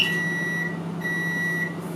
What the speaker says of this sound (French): Quand on entend le buzzer, c'est que les ondes s'échappent du four par sa porte.